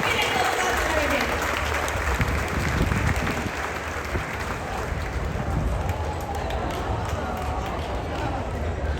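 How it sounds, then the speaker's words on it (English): A large audience at a top-tier guest event aboard the cruise ship Wonder of the Seas claps loudly and continuously throughout, a dense wash of applause with some voices mixed in. "please give her a big round of applause"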